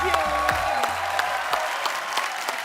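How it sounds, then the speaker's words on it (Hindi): Studio audience applause on a television comedy talk show, brisk loud clapping with sharp individual claps audible, heard beneath music and a host's voice at the start. "जोरदार ताली हो जाए एक बार."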